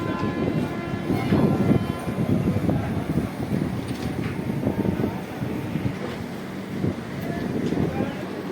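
Chhapra Express passenger train pulling out of Mariahu railway station in Jaunpur, a steady rolling rumble with rattling carriages and faint high tones, heard at moderate distance with no clear talking.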